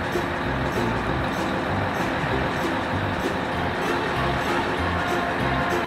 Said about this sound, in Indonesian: ada truk molen, teman-teman